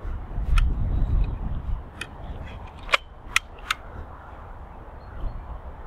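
A Beretta DT11 shotgun fired outdoors at a distance: a few sharp, brief reports and cracks over wind and low rumble, with a muffled voice early on.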